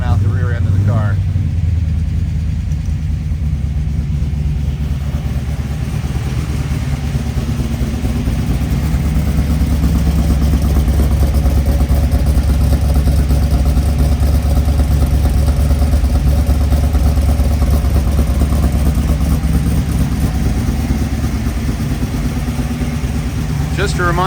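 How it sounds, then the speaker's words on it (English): A 1969 Camaro Z/28 engine breathing through headers, 3-inch pipes and dual Magnaflow mufflers idles with a deep, steady, slightly choppy rumble for over twenty seconds, loud and close, with talking over it in places. "those headers lead to 3-inch pipes with dual Magnaflow mufflers and really produce a hearty sound coming out the rear end of the car"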